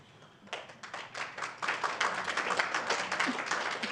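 Scattered clapping breaks out in a planning and zoning public meeting room, starting sparse and sharp, then swelling into fuller applause from a modest crowd.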